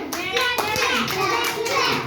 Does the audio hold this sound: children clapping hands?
yes